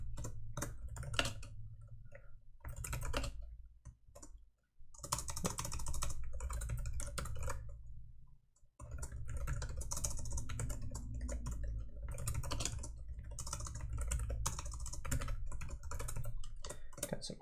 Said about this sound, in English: Got some horrible typing today.